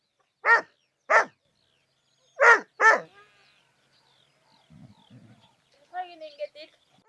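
A dog in Mongolia barks four times in sharp close bursts, two then a quick pair, followed by quieter whimpers and a chirping bird.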